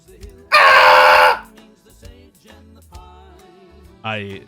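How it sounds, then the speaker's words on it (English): A person lets out one loud, sustained scream right up close to the microphone, lasting under a second, followed by quieter voices and a brief second shout near the end. "Scream if you hate Pennsylvania."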